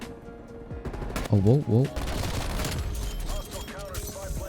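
Krig-6 rifle fire in Call of Duty on Nuketown, a few sharp close bursts over game ambience, with a man's excited exclamations layered on top.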